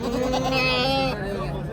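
Goats bleat loudly and continuously at a busy livestock market, their wavering calls filling the moment while a crowd murmurs and people talk close by.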